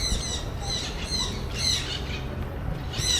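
Birds at a bird park in Chandigarh, India squawk and chirp in repeated bursts over steady outdoor background noise, moderately close.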